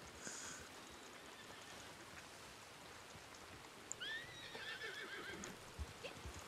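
Horses whinny and neigh in the video game Red Dead Online, a short call near the start and a longer, louder neigh in the second half, with faint hoof thumps and soft outdoor ambience beneath.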